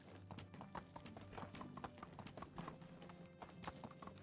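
Horse hooves clip-clop in a steady, continuous rhythm while riding a mount in the medieval survival game Medieval Dynasty, close and even throughout with faint background ambience and no voice over them.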